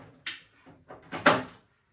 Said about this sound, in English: So I'm going to open the doors on the machine